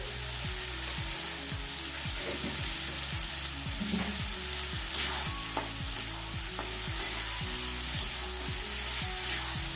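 Young jackfruit curry sizzles and fries steadily in a pan while a utensil stirs it in a regular scraping rhythm, loud and close with no talking.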